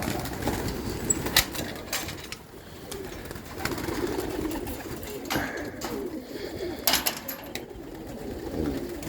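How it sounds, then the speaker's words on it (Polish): Pigeons feeding on scattered grain outdoors, low throaty cooing repeated through the scene with soft pecking taps and occasional wing flutters, close and moderately loud. "Żerują go gołębiaczki, żerują."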